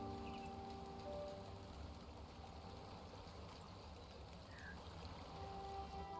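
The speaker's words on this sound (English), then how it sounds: "So, just an absolute towering deluge of water." A pumped torrent of water in the game Timberborn pours down steadily, a soft, continuous rushing wash like heavy rain, faint and unbroken throughout.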